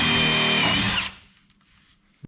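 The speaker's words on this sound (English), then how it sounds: "So let's take our 32nd drill bit, punch some holes in there" A power drill with a small bit punches holes for gooseneck plug wiring in a Ram 2500 RamBox, a loud, high whine that winds down after about a second, leaving quiet with a click.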